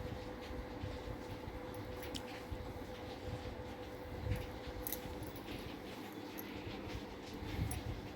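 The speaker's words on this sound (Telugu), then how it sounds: "మా ట్రైన్ ఇంకా రాలేదు, లోకల్ ట్రైన్. ఇప్పుడు వచ్చింది." A local train arriving and running at a station, heard as a steady low rumble with faint rail clatter and occasional squeals, fairly distant and continuous with no talk.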